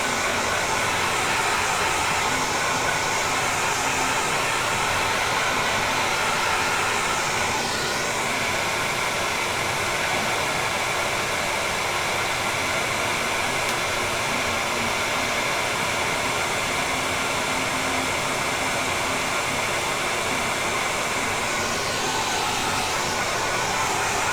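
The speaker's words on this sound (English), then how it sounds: "I'm actually going to pull out my hair dryer." A hair dryer blows steadily on a watercolor painting to dry it, a loud, constant rushing whir that runs without a break, close to the microphone, with no talking over it.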